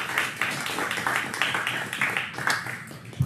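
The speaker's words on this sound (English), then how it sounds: "So round of applause for all y'all." Audience at a church's fourth anniversary gathering claps in a lively round of applause, a rapid irregular patter of hands that swells and dips over a few seconds.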